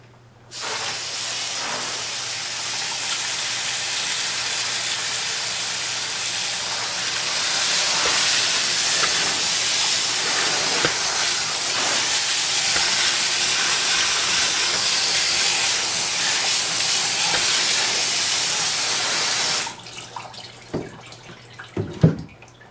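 Steady, loud hiss of a water spray rinsing the motor of a Singer 328K sewing machine, likely over a utility sink, running continuously for about twenty seconds before stopping, followed by a few faint clicks and handling knocks.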